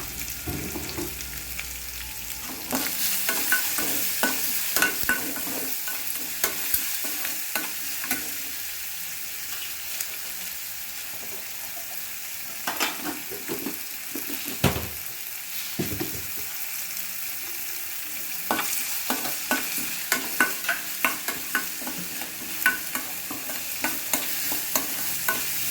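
Ingredients sauté with salt in a pan, giving a steady close sizzle punctuated by frequent scraping and tapping from a stirring spoon, busier in the middle and final stretches.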